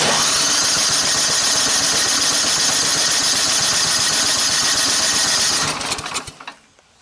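A small engine starts after choke and fuel are set, running loud and steady with a rough buzzing idle for several seconds before sputtering and dying out near the end.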